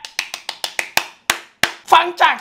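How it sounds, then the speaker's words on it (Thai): About nine sharp, close hand claps ring out in a quick uneven rhythm, followed by a person speaking briefly. "นี่คือเสียงปรบมือนะท่านผู้ชม"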